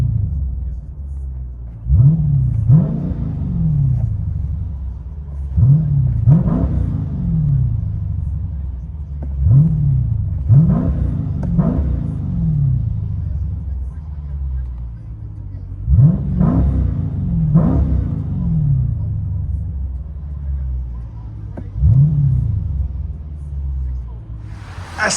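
A 2016 Dodge Challenger SRT 392 HEMI with Dynomax Bullets exhausts, recorded from inside the cabin, rumbles loudly at idle and is blipped in repeated sharp revs, about ten throttle bursts in a steady rhythm.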